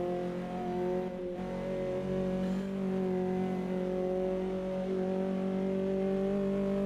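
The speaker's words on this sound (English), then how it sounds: "you can hear the feather off of the throttle" A race car in Automobilista 2 (AMS2) on a wet Santa Cruz do Sol circuit holds a steady engine drone as the driver feathers the throttle and the tyres slip, sustained and close with slight rises in pitch.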